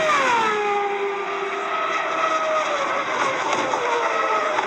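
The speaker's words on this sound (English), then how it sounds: "There comes Franchitti onto the back stretch." Champ Car race cars of the 1999 CART season roar along an oval track, a loud continuous engine wail with falling pitch as the cars sweep past, no talk.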